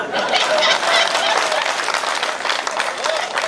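An audience at a Hindi comic poetry gathering claps and cheers in a loud, dense burst of applause, with scattered voices mixed into the noise.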